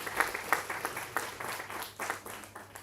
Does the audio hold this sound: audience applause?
yes